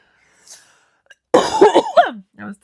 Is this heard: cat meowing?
no